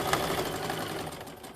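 A sewing machine runs continuously while stitching a half-inch seam on a tote bag, a fast, even mechanical whirring and clatter heard close up with no talk.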